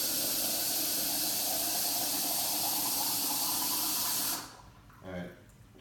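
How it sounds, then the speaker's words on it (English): Hot water gushes from a tap into a sink in a loud, steady hissing stream for several seconds, then cuts off abruptly, leaving a short quiet tail with a brief clunk. "so immediately turn it on, I get hot water"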